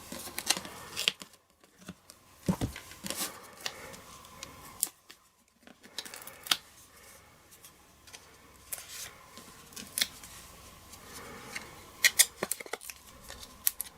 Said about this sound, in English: And cut the ribbon off at an angle.